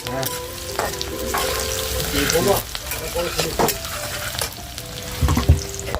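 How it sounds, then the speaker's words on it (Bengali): Onions frying in a pan for a braised meat curry, a steady close sizzle with stirring scrapes running throughout, no talk. "মাংসটা বানানোর জন্য এখানে আমি পেঁয়াজটা প্রথমে ভাজা করে নিচ্ছি"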